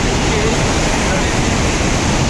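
Hogenakkal Falls roars up close, a loud, constant rush of falling water that fills the whole clip and drowns out everything else.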